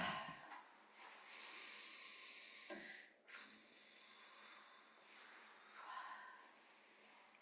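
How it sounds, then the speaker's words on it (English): A person's slow, deep breathing, long airy inhales and exhales close up with soft hiss, quiet and alone, about two full breaths. "Take a deep breath."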